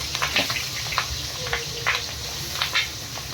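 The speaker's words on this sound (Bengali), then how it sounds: "একটু সাঁতলে নেবো।" Fish with roe, rubbed with salt and turmeric, frying lightly in a pan, giving a soft steady sizzle with repeated brief crackling spits and pops, close and quiet.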